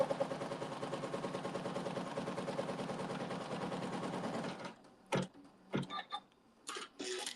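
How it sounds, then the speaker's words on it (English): An embroidery machine on a Navigator stitch-out sews a tack-down stitch, a fast steady mechanical needle chatter running for several seconds before stopping, followed by a few scattered handling clicks and knocks. "it's going to sew another tack down stitch"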